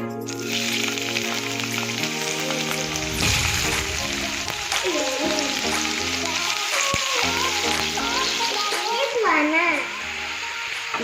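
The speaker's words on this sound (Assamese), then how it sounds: "এতিয়া মই বিলাহী আৰু পিঁয়াজখিনি ভাজি আছোঁ।" Tomato and onion frying in a pan at home, a steady sizzle running throughout under background music and some talk, close and fairly loud.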